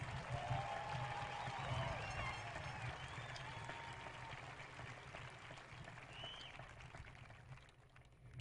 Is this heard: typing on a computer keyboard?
no